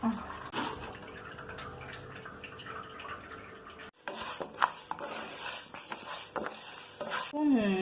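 Fenugreek seeds crackling and sizzling in hot oil for temple-style puliyotharai, with a spoon scraping and stirring the pan up close, a short break midway, then more frying and clinking.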